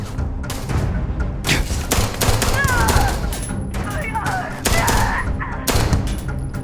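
Gunfire from a Starfield firefight in a lab: dense, repeated shots and bursts under continuous talk, with a few sharp peaks breaking through a steady layer of combat noise.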